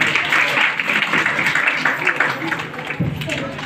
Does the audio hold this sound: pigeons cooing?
no